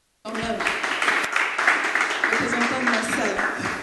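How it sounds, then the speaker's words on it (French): Audience at an awards ceremony breaks into steady, moderately loud clapping that starts suddenly and continues evenly, with voices and cheers mixed in. "On applaudit quand même."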